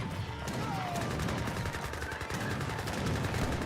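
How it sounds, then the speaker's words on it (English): British Imperial cannons firing in Age of Empires 3, with loud, rapid booms and crackling battlefield gunfire packed together over a constant clatter of combat. "And now got some heavy cannons being employed on the field."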